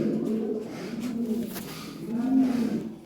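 Fancy pigeons coo softly and close by in a few low, rolling calls that rise and fall over about three seconds, with faint background murmur.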